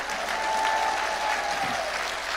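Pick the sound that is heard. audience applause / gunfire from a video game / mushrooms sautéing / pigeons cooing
audience applause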